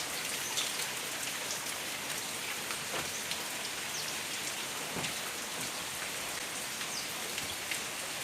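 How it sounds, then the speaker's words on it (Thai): Steady rain falls at a house in Sattahip, a soft continuous hiss of moderate drops pattering on surfaces, even and unbroken throughout with no voices. "ฝนก็ยังลงอยู่นะคะ ตอนนี้ลง เม็ดปล่อยๆแล้วค่ะ ไม่ค่อยแรง"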